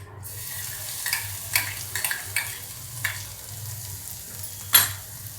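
Chutney hits hot oil in a frying pan while making matar paratha, giving a continuous sizzle and fry hiss broken by several scraping stirs, with one sharper clatter near the end; no one speaks.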